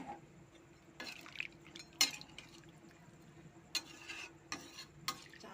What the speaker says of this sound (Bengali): নাড়াচাড়া করে আমি চাপা দেবো।